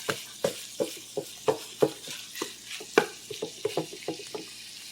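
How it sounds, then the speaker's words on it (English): Ground meat for a spicy sloppy joe browns in a pan, with repeated scraping stirs and a steady light sizzle, close by and with no talking. "got a little sizzle going on"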